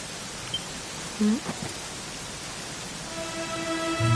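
Rain in Dragon Quest XI, a steady soft hiss of falling water under brief game tones and chimes, even and continuous throughout.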